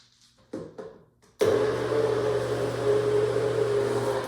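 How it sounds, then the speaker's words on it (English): A NutriBullet blender kicks on with an abrupt loud whir while mincing basil, settling into a steady motor drone after a few soft knocks and clicks at the start. "I will gradually add that to our basil as it gets minced up in this NutriBullet"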